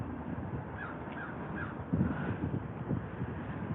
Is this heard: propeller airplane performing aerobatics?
no